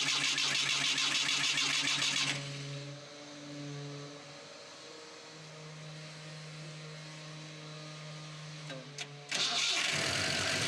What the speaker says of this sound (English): Yes, it started up.